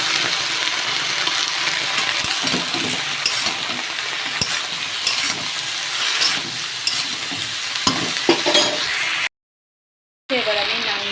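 Spices with turmeric and chili powder stirred in a frying pan, a steady close sizzle with repeated scraping and clinking of a spatula, a voice faintly underneath, then a brief dropout.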